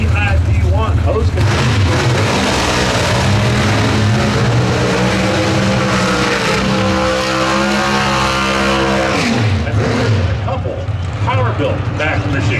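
A Pro Stock drag racing engine roars through a burnout at an NHRA Winternationals qualifying session, loud and continuous with rising and falling revs, while an announcer talks over it.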